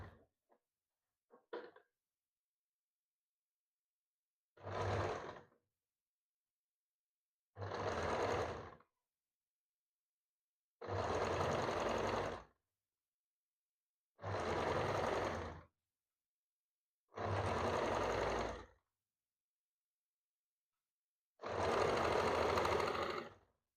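A sewing machine stitches a padded blouse in six separate runs of roughly one second each, with pauses between them, the motor whirring loud and close with no voices.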